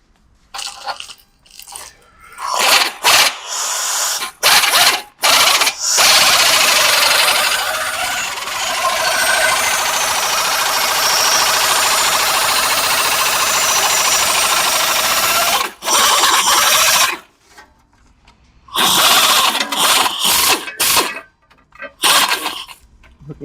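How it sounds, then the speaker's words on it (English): A pneumatic cutting tool slices an aluminium body panel for an all-aluminium AC Cobra, starting with short choppy bursts and then a long, loud, harsh continuous cut, followed by more stuttering bursts up close. "Wonder if we shouldn't just cut this one with the pneumatic quickly first"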